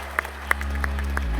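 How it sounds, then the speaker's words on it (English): Applause from an audience at an awards ceremony, short and moderately loud, with scattered distinct claps over a steady crowd wash and a low hum beneath. "A big round of applause, everybody."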